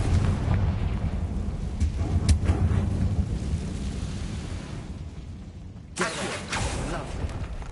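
A Confringo fire-blasting spell in Hogwarts Legacy erupts in a loud, rumbling explosion that rolls on for several seconds, followed by a second sharp blast near the end.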